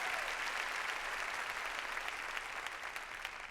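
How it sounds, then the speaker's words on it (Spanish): A church congregation applauds steadily and evenly for several seconds, a dense wash of clapping at moderate volume with no speech over it. "Démosle un aplauso al Señor"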